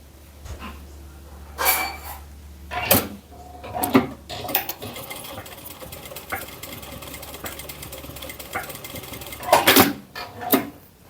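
A sewing machine stitches a belt loop on women's elastic-waist shorts in short, loud runs of rapid needle chatter, separated by quieter pauses and faint handling noise.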